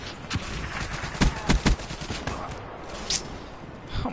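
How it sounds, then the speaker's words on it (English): Shotgun fire in a multiplayer shooter video game: several sharp blasts, one after another in a quick cluster near the middle, then a lone later shot, with game noise between. "How many people are using shotguns in here?"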